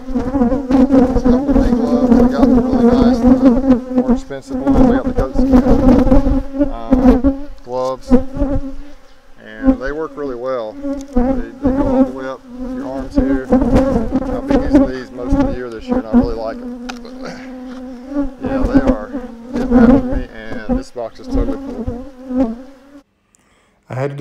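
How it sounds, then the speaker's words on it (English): Dense, loud buzzing of many aggressive honey bees swarming close around a hive, a steady droning hum with rising and falling intensity throughout. "as the bees got aggressive here, you couldn't hear what I was saying"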